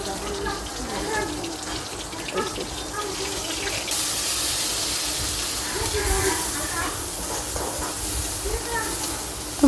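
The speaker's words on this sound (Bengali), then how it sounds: "লতি রান্না করার শেষে যে মা হলো মাছ ভাজতেছে।" Tilapia fish frying in oil during cooking, a steady hiss and sizzle that runs throughout, loud and close, with voices talking over it.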